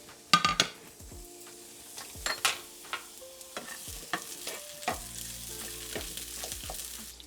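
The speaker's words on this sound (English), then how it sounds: "I'm gonna fry my apples." Apple pieces fry in a pan while being stirred, with a soft sizzle underneath and sharp clinks and scrapes of a utensil against the pan, followed by faint ringing tones.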